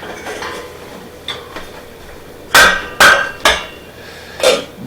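A metal saucepan is brought out and set down on a kitchen stovetop, a few soft taps followed by four sharp, ringing metallic clanks spaced about half a second apart, close and clear with no talk.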